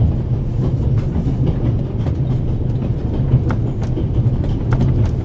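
Orient Express train from the game The Raven Remastered rolling steadily along its tracks, a loud continuous low rumble with faint rhythmic clicks of wheels over rail joints, heard alone.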